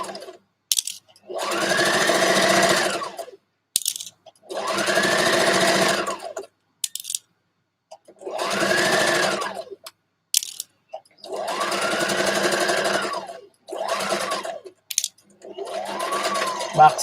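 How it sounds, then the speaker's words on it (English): A sewing machine stitches a dress in repeated whirring runs of about one to two seconds, separated by short pauses and small clicks, close and steady. "So now I rest my presser foot down back, and I'm going to sew"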